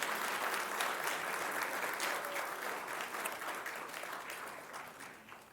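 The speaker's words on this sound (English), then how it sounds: "how about a round of applause for all of our new elected officials?" Applause for newly elected officials at a city council meeting, a steady indoor round of clapping from the audience that gradually fades toward the end.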